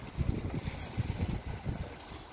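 Gusty wind buffeting outdoors ahead of a hurricane, a rumbling low roar with uneven pulsing gusts close to the microphone, no voices.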